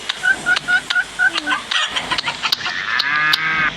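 Chickens at a chicken coop give a string of short, rhythmic squawking calls close by, turning into busier, overlapping cackling near the end, with faint voices now and then.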